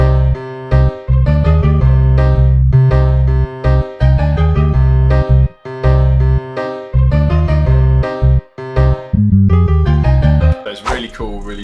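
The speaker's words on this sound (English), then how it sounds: "the orchestral strings that are on Pizzicato and the piano, it sounds like this." A loud, dense hip-hop beat with heavy bass, plucked pizzicato orchestral strings and piano plays continuously in a steady rhythm, ending in a brief flourish.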